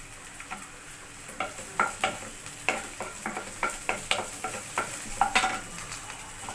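Chopped onions fry with garlic in a pan, a low sizzle under a rapid run of scraping, clicking spatula strokes that come in quick bursts, close and fairly quiet, without speech.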